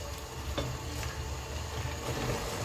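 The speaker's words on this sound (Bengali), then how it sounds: "মোড়টা একটু খুন্তিতে করে ভেঙে দিচ্ছি, দিয়ে লাউয়ের সাথে মিশিয়ে দিচ্ছি।" A spatula breaks up a hilsa fish head and stirs it into bottle gourd in a hot pan, giving a steady low sizzle with a few brief scraping strokes, close and quiet, no talking.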